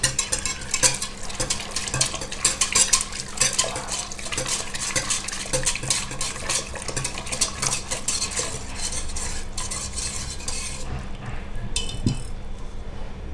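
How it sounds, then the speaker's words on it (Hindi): A whisk beats cooked dal in a metal pot, making a quick, repeated scraping and clinking rhythm close up that slows and fades near the end, with no one speaking. "अब इसको हम एक व्हिस्कर की मदद से थोड़ा सा व्हिस्क कर लेंगे"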